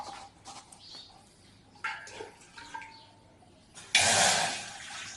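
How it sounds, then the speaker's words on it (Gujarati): Water poured into a tea pan on a lit gas stove: a few quiet clinks and rustles, then a sudden loud, close gush that runs on to the end. "હવે આપણે એમાં પાણી નાખવાનું છે।"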